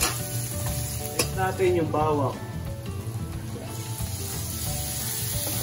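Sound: ginger sautéing in a pan

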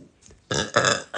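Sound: burp

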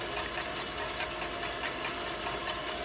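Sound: stand mixer beating eggs

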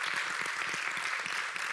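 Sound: congregation applauding the worship team

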